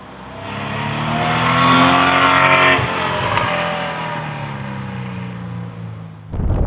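A Porsche 911 with a twin-turbo 3.0-liter flat-six engine revs in one loud, sustained, rising and falling roar that holds for several seconds, then cuts off abruptly near the end.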